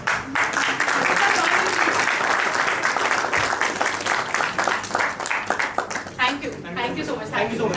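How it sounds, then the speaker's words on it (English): An audience at a startup investor event applauds an investment announcement, with sustained clapping from a sizeable crowd that holds steady, then thins toward the end under a speaker's voice. "investment announcement deserves a huge round of applause, please"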